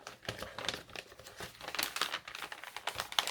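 A gold-coloured paper envelope is handled and opened up close, giving a dense, continuous crinkle and rustle of stiff paper with small crackling bursts throughout.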